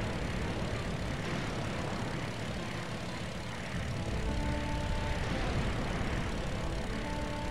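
Airplane engine in the video game Sky Odyssey, a continuous droning engine hum with faint tonal lines over steady noise, held at an even level without talk.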